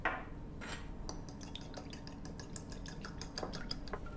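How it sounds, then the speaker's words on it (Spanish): An egg is beaten with cold water in a bowl, a fork clicking rapidly against the sides in a steady quick rhythm, close and fairly quiet, with no talking. "Vamos a batir un huevo con agua fría."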